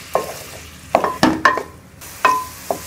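Tomatoes for chutney being sautéed in a pan, with a soft sizzle under a handful of distinct, irregular stirring and scraping strokes, close and moderately loud.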